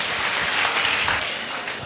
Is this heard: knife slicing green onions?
no